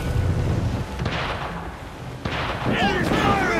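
Ship cannon fire in Assassin's Creed Black Flag booms loudly through a battle scene, with a sharp blast near the middle and rumbling low impacts, while game voices talk over it.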